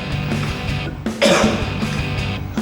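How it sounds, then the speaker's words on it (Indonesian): A single harsh cough bursts out close to the microphone, preceded by breathy throat noise, with no speech. "Nih, ini batuk nih ya. Dengerin aku batuk ya."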